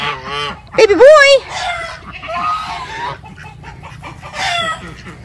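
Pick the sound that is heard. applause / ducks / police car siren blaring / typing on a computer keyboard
ducks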